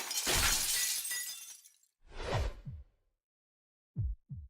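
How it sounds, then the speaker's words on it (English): Window glass shatters in the Fate/Stay night visual novel: a loud burst of breaking glass with a whoosh, a second crash a moment later, then two short tinkling fragments landing after a pause. "It'd only been a kick to the stomach, but I go flying, shattering the window."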